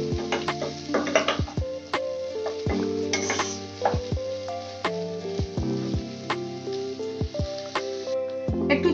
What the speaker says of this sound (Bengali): এই ফুলকপি দিয়ে ভালো করে নাড়বো। এটা পেঁয়াজের সঙ্গে ফুলকপিটাও ভালো করে একটু ভাজা হবে।